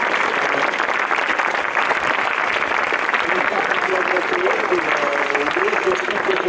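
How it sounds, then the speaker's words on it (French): An audience at an inauguration weekend for a comic-art venue claps steadily, a dense, even wash of applause from a crowd lasting the whole stretch. "je vous propose d'applaudir très fort la maison Fumetti pour ce week-end d'inauguration"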